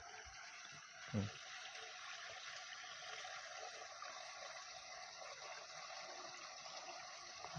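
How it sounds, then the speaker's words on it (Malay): A small stream of water runs along a strip of land near a dammed river, giving a steady, moderately loud trickling and rushing flow that continues throughout, with a brief thump near the start. "sepanjang tanah ni ada anak sungai lah, ada anak air macam ni lah sepanjang tanah tu"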